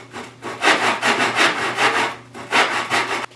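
A hand saw cuts through wood down the middle of a blind dado, with about half a dozen rhythmic rasping strokes, each one loud, close and dry.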